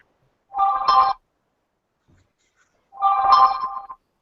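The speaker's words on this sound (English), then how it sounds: "Somebody getting text messages or something?" A phone sounds two separate text-message alerts, each a short buzzing electronic tone about half a second long, spaced roughly two seconds apart in an otherwise quiet room.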